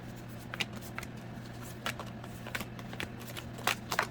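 Tarot cards are handled and shuffled in a series of quiet, crisp flicks and slides, scattered irregularly over a low room hum, with no talking.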